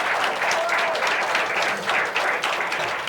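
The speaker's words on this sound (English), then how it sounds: "So let's give them a little applause, audience." Studio audience applauding on a late-night talk show, a dense, steady wash of clapping that holds at full strength for about three seconds with no talk over it.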